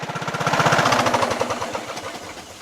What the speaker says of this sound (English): I didn't do anything to the adjustment on the carburetor. This is idle. Sounds great. No surging.